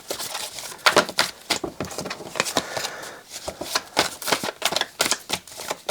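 Tarot cards are shuffled in quick, crisp riffling bursts, a rapid pattering flutter repeated over several seconds, close and clear.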